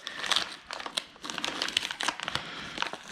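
Paper or cardboard crinkling and tearing as a package flap is ripped open, a close, busy stream of irregular crackles and rips with no talking.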